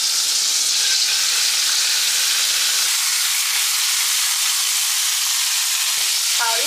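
Rice is stir-fried in butter in a pan as the base of a mushroom risotto. A loud, dense, continuous sizzle and hiss fills the clip up close, with slight shifts as the rice is moved.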